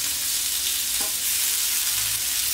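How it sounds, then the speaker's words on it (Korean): Salmon steak frying in oil in a pan, a steady broadband sizzle with a brief scrape as the fish is flipped, continuous and close, no voices. "자, 뒤집어 볼까요, 연어를요?"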